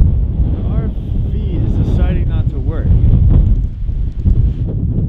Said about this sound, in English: So you probably can't hear us because of the wind.